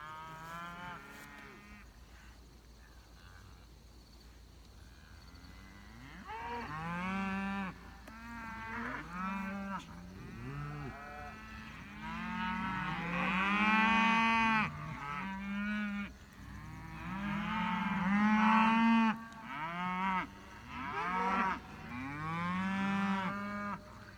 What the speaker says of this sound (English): entire herd of cattle up on this North Hill